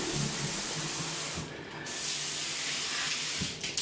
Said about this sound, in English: you clean yourself with the bum gun